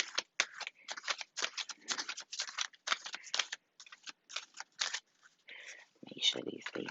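Tarot cards are shuffled by hand in quick, repeated riffling bursts close to the microphone, ending with a softer rustle.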